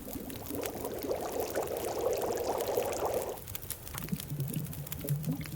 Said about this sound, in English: We could just purify it, but we have a fire here. We might as well just boil the shit out of it.